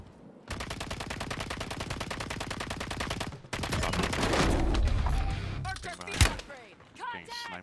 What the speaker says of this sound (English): Getting sniped by that guy.